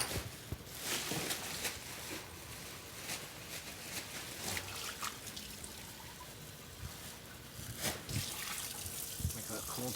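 Water runs from a tap into a sink, a steady rushing stream with a few splashes, while people talk nearby and footsteps move around.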